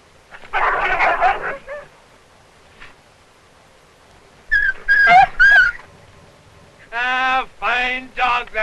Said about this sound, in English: That husky would kill any dog that comes between him and his mate.